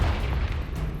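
A Confringo explosion spell in Hogwarts Legacy lands as a deep, muffled boom with a rumbling low-end blast that fills the whole short moment.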